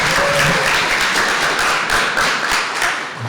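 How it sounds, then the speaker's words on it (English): An audience applauds at a congressional event, a dense, sustained wash of many hands clapping that holds steady and loud throughout the short stretch, with no speech. "Would you give her a round of applause?"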